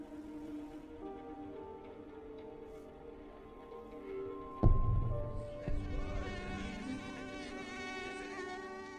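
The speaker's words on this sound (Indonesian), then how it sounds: "tak bisa tidur mendengar suara-suara nyamuk yang terus mendekatinya" Mosquito buzzing in a film scene, a thin continuous whine hovering close by, with a sudden thump midway and the buzz continuing afterward over quiet background.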